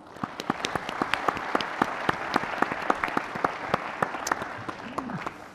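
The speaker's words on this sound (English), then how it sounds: "please give our moderator, Mr. Howard Bamsey, a warm round of applause" Audience applause at a summit plenary session on green growth, welcoming the moderator: dense, steady clapping from a sizable crowd in a hall, sharp individual claps standing out throughout, with no talk over it.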